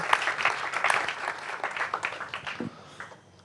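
Audience applause at a live-streamed comedy event, a lively burst of clapping from a crowd that starts strong and gradually thins out, with scattered individual claps fading toward quiet by the end.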